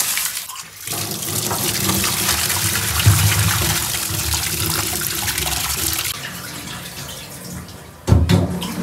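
Water runs steadily and splashes throughout as salted mutton head and legs are washed, with wet handling sounds and a sharp clatter near the end.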